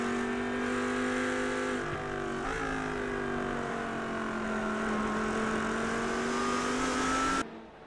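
Race cars cruising on a cooldown lap at Long Beach in a racing video game, a steady, loud engine drone holding one pitch with slight rises and dips before it cuts off abruptly near the end.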